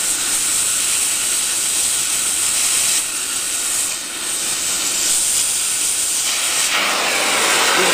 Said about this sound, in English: This is propane. Propane with oxygen burns about 800 degrees Fahrenheit.